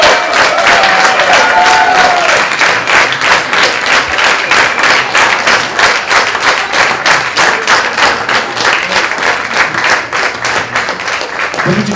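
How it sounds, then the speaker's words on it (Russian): Audience applause fills a hall at a round-table session of an international forum, a dense, rhythmic ovation of many hands that holds steady and then begins to ebb. "Утихающие овации"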